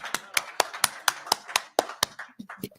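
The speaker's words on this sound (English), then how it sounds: "Wait for the applause." Sparse rhythmic handclaps from an audience at a secular humanist debate, about a dozen sharp evenly spaced claps, close and fairly faint, trailing off at the end.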